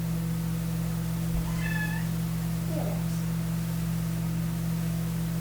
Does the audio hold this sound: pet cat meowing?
yes